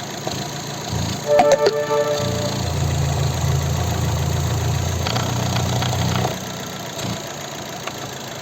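A 2010 Opel Zafira 1.8 petrol engine idles steadily with a low, even hum after starting up, nearby and continuous, with a few faint clicks over it.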